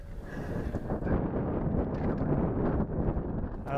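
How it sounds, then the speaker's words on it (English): Strong outdoor wind of about 15 to 20 mph buffeting the microphone at an off-road spot, with a dense, continuous low rumble and gusty flutter throughout and no clear talking. "We got about 15 to 20 mile an hour winds."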